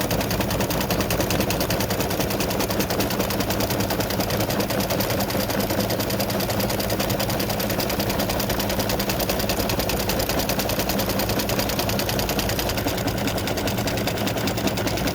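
An embroidery sewing machine stitches freestanding lace Valentine heart earrings, running a rapid, relentless needle rhythm at constant loudness, close and alone with no voices.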